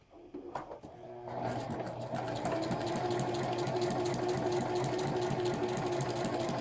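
Sewing machine stitching through paper, starting with a few separate clicks and then running steadily at a fast, even pace, close and loud, with no talking.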